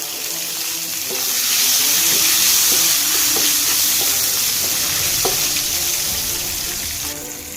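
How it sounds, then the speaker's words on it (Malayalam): Ginger-garlic paste and green chillies sautéing in a pan for a chicken wing roast give a steady, close sizzle with scattered light scrapes of a spoon stirring through it, with no voice. "ഇത് നമുക്ക് പച്ചമുളക് മാറുന്ന വരെ നമുക്ക് വഴറ്റിയെടുക്കാം."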